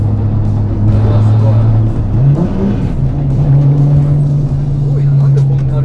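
A 650-horsepower Toyota Supra JZA80 with a 2JZ engine and TO4Z full turbine kit drones from inside the cabin, its engine note rising briefly in a throttle blip before settling back to a steady hum, with people talking over it.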